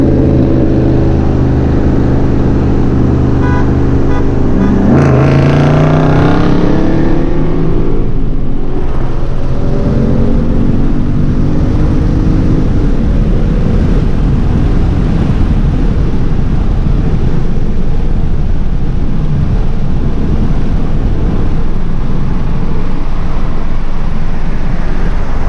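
A 2020 Ford Mustang GT accelerates hard in a race against a Challenger R/T, its engine droning loud and rising in pitch through a shift before settling into a steady roar of wind and road noise.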